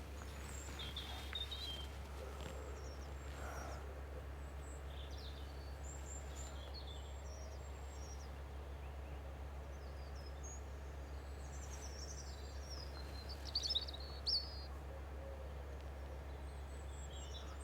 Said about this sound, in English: Birds are very flappy this moment.